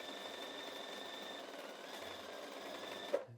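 A sewing machine stitching quilt seams, a steady mechanical hum running at even speed throughout, with a small click just before it stops.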